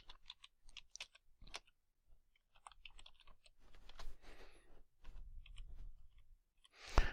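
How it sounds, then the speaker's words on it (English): Someone types a password on an Android device, giving scattered light taps and clicks spread over several seconds, faint and close, with a louder burst of tapping at the very end. "So I'm going to type that password here."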